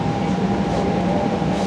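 A Chicago Transit Authority Red Line subway train bound for Howard rolls on steadily, a loud continuous rumble and track roar heard from inside the car, with no voices.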